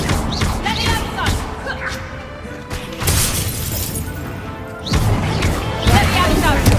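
Magic spell effects from the Hogwarts Legacy video game, loud bursts and shattering, smashing impacts in quick succession, with a voice shouting spell names over the busy game audio.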